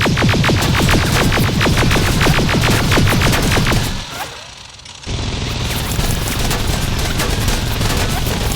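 Rapid, rhythmic automatic gunfire in Terminator: Resistance rattles loudly for about four seconds, drops out briefly, then continues as a dense barrage of shots mixed with battle noise.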